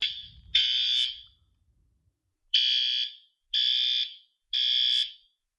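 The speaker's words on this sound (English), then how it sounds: "Let's go check out the horn strobe." A fire alarm horn strobe sounding during a test, its loud electronic horn blaring in four harsh bursts, the last three evenly spaced, with only faint background noise between them.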